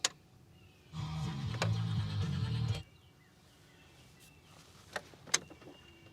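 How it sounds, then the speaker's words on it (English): A Chevrolet Trailblazer fuel pump primes with the key turned on, a steady low electric hum lasting about two seconds from the rear of the vehicle, followed by quiet clicks and ticks. "I think I hear the fuel pump."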